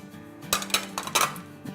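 A spoon clinks against a metal bowl while dry spices (amchur powder, kalonji, turmeric, red chilli) are mixed for stuffed chilli pickle, giving several sharp clinks and scrapes in close succession.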